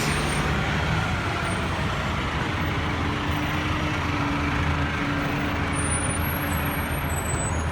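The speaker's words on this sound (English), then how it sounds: "Here's one of Orion's last buses." Orion transit bus passing on Bathurst Street in Toronto, a steady loud engine rumble and road roar up close with a brief air-brake hiss amid traffic.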